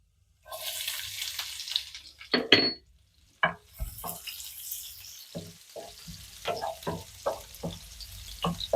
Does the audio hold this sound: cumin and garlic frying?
yes